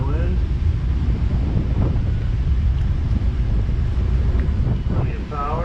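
Strong wind buffets the microphone aboard an F45 boat during a sea trial, a loud, continuous roar of gusts with the boat's rush underneath and faint voices and radio chatter now and then.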